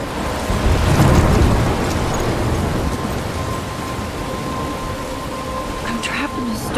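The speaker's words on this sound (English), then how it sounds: "I'm trapped in a storm." A storm in the Life is Strange video game: steady, loud rain hisses throughout while a deep rumble of thunder rolls through near the start and then fades into the downpour.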